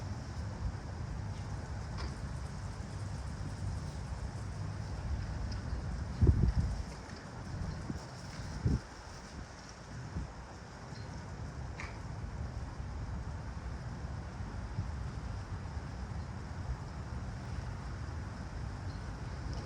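Steady outdoor wind rushing and buffeting the microphone around a camping stove setup, constant and loud throughout, with a few faint knocks partway through.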